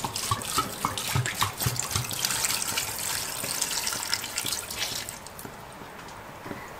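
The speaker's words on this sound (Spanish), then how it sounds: "Ahora agrego agua al nivel de todos mis ingredientes." Water is poured from a tap or jug into a pot of carrots, cabbage and turnip for couscous, a steady close splashing gush with drips that trails off toward the end.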